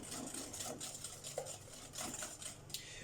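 Brownie batter whisked in a bowl, quick rhythmic scraping and clinking of a whisk against the bowl, close and fairly quiet, with no talk.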